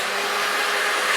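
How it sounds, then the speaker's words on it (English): A hair dryer runs steadily on screen-printed ink on a shirt, flashing the print, giving a loud, close, continuous airy whoosh with a constant motor drone and no pauses. "We use a hairdryer, because a hairdryer will not burn a shirt"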